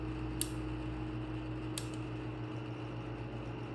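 A Westinghouse 12-inch Power-Aire pedestal fan running on medium speed gives a steady motor hum with a low drone and faint whine, plus two brief ticks, close and constant throughout.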